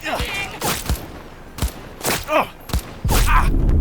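Bursts of gunfire in Cyberpunk 2077 aimed at an enemy's legs, several loud sharp shots fired in quick uneven clusters, with a heavier sustained blast near the end.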